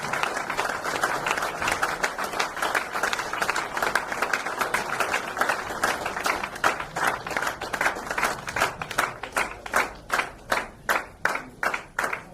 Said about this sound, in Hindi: तो जोरदार तालियों के साथ सूरज काजी सर का यहाँ पर स्वागत करेंगे।